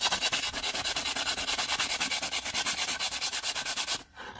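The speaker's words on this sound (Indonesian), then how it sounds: "So gosok dulu sampai dia rata." Rough P80 sandpaper rubbing a carbon fiber layer smooth in fast, steady back-and-forth strokes, close and loud and continuous, stopping abruptly near the end.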